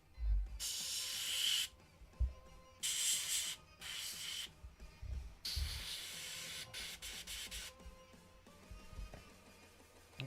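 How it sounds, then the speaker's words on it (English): Several loud hissing bursts from a model-kit spray gun spraying slightly thick paint, each lasting about a second, separated by short pauses with faint handling noise in between. "My paint could be a bit thinner, but overall it's spraying okay."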